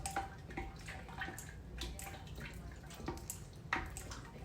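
Fermenting fruit cake starter is stirred in a bowl with faint, wet swishing and scraping strokes, close and quiet, with a couple of light clinks along the way.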